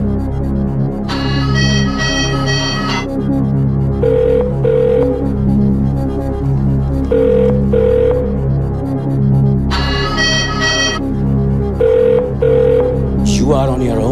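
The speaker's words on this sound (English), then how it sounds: "So Latika answers his phone, left in his car" Mobile phone ringing in a Slumdog Millionaire film scene, a repeating ring in bursts over a dense film score and background sound, with a voice briefly heard.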